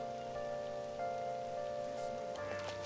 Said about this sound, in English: I feel so down when it's raining.